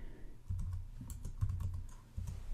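Keys clatter on a computer keyboard in short irregular bursts, a close and steady run of typing with brief pauses and no voices.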